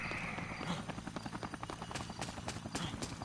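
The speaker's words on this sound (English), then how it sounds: "I'm about to fight a helicopter." A helicopter in the video game Dead Rising thrums with rapid, steady rotor chopping under scattered crashes and clatter, holding at a moderate, continuous level for about three seconds.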